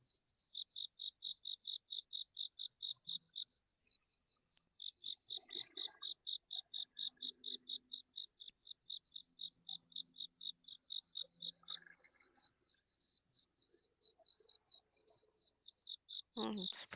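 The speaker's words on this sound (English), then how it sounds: "Hear the crickets." A cricket chirps at night in a steady, rapid pulsing rhythm, close and clear, with brief pauses, faint distant voices underneath, and a sharp noise at the end.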